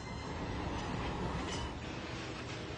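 A train runs on the railway line at Metlaoui, Tunisia, a steady broadband rumble and rolling rail noise filling the whole stretch with no break, loud and continuous.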